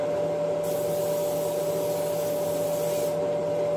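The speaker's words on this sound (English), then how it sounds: "just going to spray that on" A steady hiss of coconut oil aerosol spray onto a pan, held for about two and a half seconds over a constant background hum.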